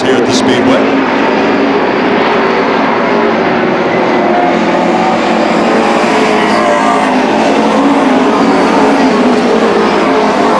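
Race cars circling Beech Ridge Motor Speedway, their engines making a loud, steady roar that fills the whole stretch with no breaks, while a commentator talks over it throughout.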